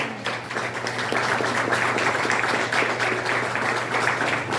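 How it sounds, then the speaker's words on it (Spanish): A church congregation applauding, a steady, moderately loud wash of clapping over a low constant hum, with no talk. "Debe ese aplauso fuerte al Señor."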